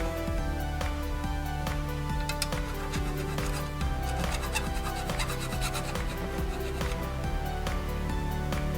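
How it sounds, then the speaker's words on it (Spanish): Repeated rasping strokes of an iron hand file smoothing leftover solder off a copper pipe, a continuous, close scraping rhythm under a steady background hum. "lo quitaremos con una lima de hierro. De esta manera quedará completamente liso el tubo"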